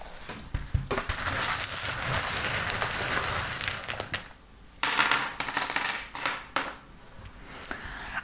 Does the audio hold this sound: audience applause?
no